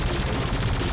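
Rapid automatic gunfire from the VR shooting game Space Pirate Trainer, a dense, continuous burst of loud blasts filling the whole moment with no pauses.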